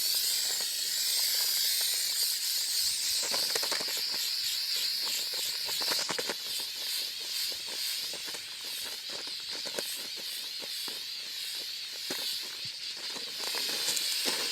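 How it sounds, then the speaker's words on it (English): Long continuous hiss of a 3M Super 77 spray adhesive can, close and steady, with brief sputtering pulses as the nozzle is worked over several seconds. "So use this 3M Super 77 spray."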